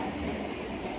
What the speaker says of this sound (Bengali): যে ট্রেনের আওয়াজ শুনতে পাচ্ছেন